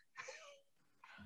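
A single sneeze bursts out close and sharp in a quiet room, followed moments later by a short vocal sound.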